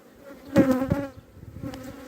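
Honey bees buzz close by at a three-storey beehive during the sunflower honey flow, a short drone that swells for a moment and fades back to a faint hum.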